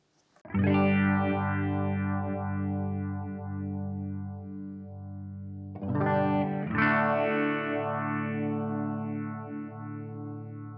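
Guitar chords run through a phaser from a Boss PX-1 Plugout FX pedal, two strummed chords left to ring with a slow sweeping whoosh rolling through the sustain, loud and alone.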